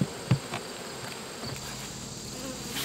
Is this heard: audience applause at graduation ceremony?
no